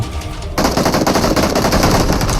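Rapid automatic gunfire from a PUBG Mobile match, a dense, loud burst of shots that starts abruptly about half a second in and keeps rattling steadily to the end, with no talking.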